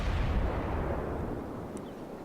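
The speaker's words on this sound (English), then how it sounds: "That's 1 and 2 torpedo hits" Torpedo hits detonating on a destroyer in the World of Warships naval game, a loud, heavy low rumbling blast that fills the whole clip and slowly fades away.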